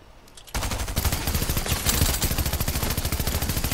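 Gunfire in the video game Fortnite starts suddenly after a quiet moment and continues as rapid, dense bursts of shots, loud and sustained to the end.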